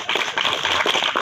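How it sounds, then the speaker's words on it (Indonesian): Students at a campus welcome gathering clap together in a brief, dense burst of applause, fairly close and steady throughout. "Kalau ini ya tepuk tangan ini"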